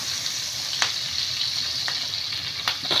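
Onions frying in oil in a pan, a constant bright sizzle close by with a few faint scrapes of stirring and no talk.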